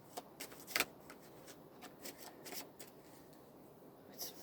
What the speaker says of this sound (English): They're very difficult to shuffle.